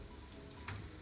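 Catfish frying in once-used cooking oil, left over from frying pastries, foams and sizzles with a steady, faint hiss and a few small crackles and pops.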